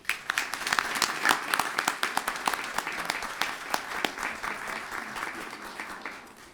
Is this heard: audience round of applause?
yes